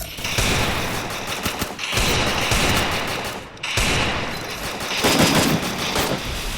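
Rapid bursts of Woodpecker rifle fire in a shooting video game, loud and dense, come in three long sustained volleys separated by brief pauses.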